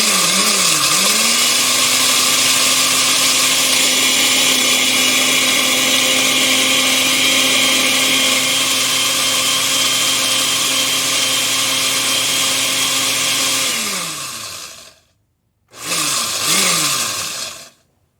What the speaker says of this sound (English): I'm going to only put you through once, having to listen to the blender.